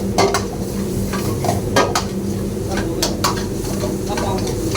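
Paneer bhurji with turmeric and coriander powder sizzles steadily in a pan while a utensil scrapes and clinks against it in repeated stirring strokes, loud and close.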